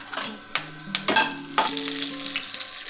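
Mustard seeds, urad dal and curry leaves hit hot oil in a tempering pan, sizzling and frying steadily. Several sharp pops and crackles come close up, with no voices.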